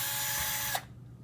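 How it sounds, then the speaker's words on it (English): A power drill bores a 3/8 inch hole through a metal air duct, a steady loud whine and grind that runs for most of a second before stopping abruptly, leaving faint room hum. "Now we'll show you after you drill your 3/8 hole"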